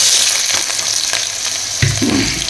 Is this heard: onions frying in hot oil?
yes